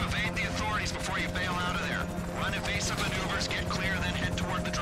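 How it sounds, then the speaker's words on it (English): A helicopter in GTA V thrums with a steady rotor drone under loud, excited talking from players during a prison break heist, with occasional game noises mixed in. "Oh god, the chopper's gonna kamikaze me!"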